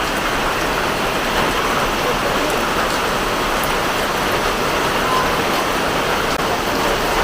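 Heavy rain pours down without pause in Wayanad, Kerala, a dense, loud, unbroken hiss of water striking surfaces close by.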